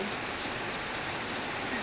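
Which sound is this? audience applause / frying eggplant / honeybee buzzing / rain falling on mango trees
rain falling on mango trees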